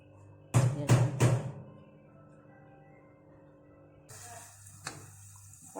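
Crushed shallots frying in oil in a pan: three sharp clattering knocks of a utensil against the pan, a quiet low hum, then a steady soft sizzle rising near the end.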